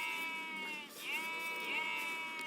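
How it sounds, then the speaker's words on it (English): Quiet, wavering sheep bleats with a tremulous, nasal tone in the video game Castles on Clouds, sounding twice in quick succession, clear and close against a soft background. "Oh, I'm clicking on the sheep."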